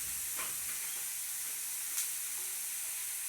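Onions sizzling in a pan with salt just added, a steady broadband frying hiss with a couple of brief crackling pops, close and continuous with no talking.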